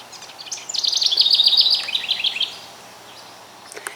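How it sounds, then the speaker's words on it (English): A garden bird delivers a quick, trilling song of rapid chirps, clear and moderately close, with a faint call or two afterward in a quiet outdoor setting. "I love the bird song."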